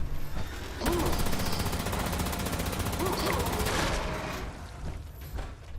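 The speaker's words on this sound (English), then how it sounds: "Oh, my Gatling laser's doing good work." A Gatling laser firing continuously in Fallout 76: a dense, sustained buzzing stream of rapid pulses runs for several seconds at steady loudness, then tapers off near the end.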